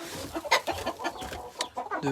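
Hens in a French backyard poultry setup with sixteen nesting boxes, clucking in a busy run of short, overlapping calls, near and fairly loud, with no talk over them.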